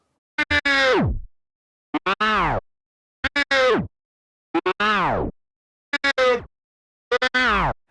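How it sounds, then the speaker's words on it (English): Six repeated turntable crab scratches, some three-finger, each a quick burst of stuttering clicks followed by a sweeping, falling tone, separated by short silences. "Again, you can do 3-finger crab scratches."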